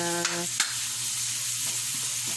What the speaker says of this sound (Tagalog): toasted na yung ating ground pork guys